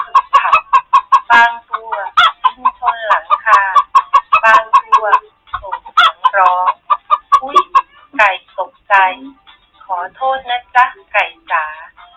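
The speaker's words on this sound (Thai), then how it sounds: "ไก่ทั้งเล้ากระพือปีก" Hens in a coop clucking and squawking loudly in quick, overlapping bursts, close by, with brief bouts of wing flapping in between and no talk.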